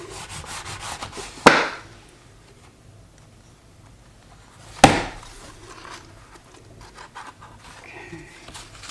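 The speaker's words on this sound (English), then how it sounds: "just go through each area and burnish it down." Bone folder burnishing paper down onto a junk journal cover, soft rubbing strokes near the microphone with two sharp scraping bursts, otherwise quiet.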